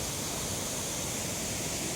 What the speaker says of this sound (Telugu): ఇక్కడ నుంచి కూడా వాటర్ ఫ్లో అవుతుంది